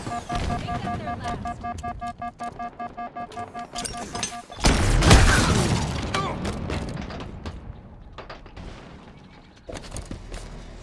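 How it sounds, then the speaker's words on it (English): A grenade detonates in the shooter game Halo Infinite, a heavy booming blast midway that swells and slowly decays, following rapid mechanical clicks and gunfire, with more scattered shots after. "Grenade out."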